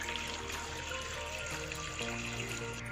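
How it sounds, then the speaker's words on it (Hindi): Two glasses of water pour steadily into a cooking pot holding large pieces of mutton and fat for namkeen rosh gosht, a continuous close splashing rush with no talk over it. "अब 2 गिलास पानी ऐड करें इसमें।"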